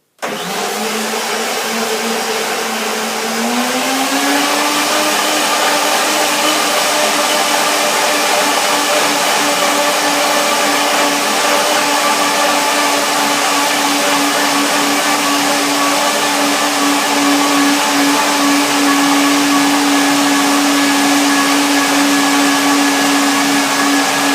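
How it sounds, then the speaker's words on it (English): A blender whirs through a kale chip marinade with a loud, steady motor whine that starts abruptly, rises in pitch after a few seconds as the blades settle, then runs unbroken to the end. "I have to blend that now."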